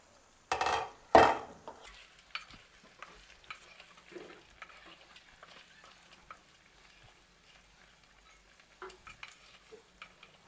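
A Kerala gooseberry sweet made with jaggery is stirred in a pan, opening with a couple of loud scrapes, then settling into soft, intermittent stirring and faint sizzling close by.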